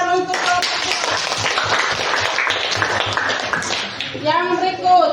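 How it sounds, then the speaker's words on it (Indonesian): A group of children claps together for a classmate group after its classroom presentation during an academic supervision session, the dense applause running steady for a few seconds between bursts of a teacher's voice. "Kita tepuk tangan untuk kelompok"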